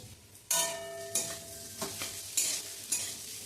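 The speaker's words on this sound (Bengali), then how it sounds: "এবার আলুটাকে একটুখানি ভালো করে কষিয়ে নিতে হবে।" Mashed boiled potato is stir-fried in a pan for a sandwich filling. Soft sizzling runs underneath while a spatula strikes and scrapes the pan in several sharp, spaced knocks, close by.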